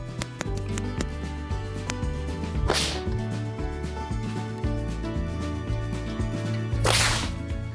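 A cowhide whip cracks twice, sharp and loud, a few seconds apart, over steady music and background clatter.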